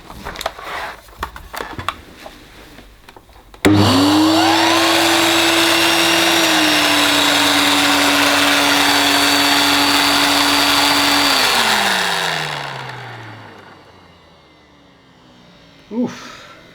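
An Electrolux 380 Turbomatic vacuum cleaner is switched on after a few seconds of handling clatter. It roars close and loud with a steady whine, then spins down and fades to quiet, ending with a small knock.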